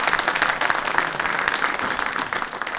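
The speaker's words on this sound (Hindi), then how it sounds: "ये तालियां आपके लिए हैं" Audience at a Hindi mushaira poetry gathering on Republic Day applauds the poets, a dense, steady wash of many hands clapping throughout, close and sustained with no speech.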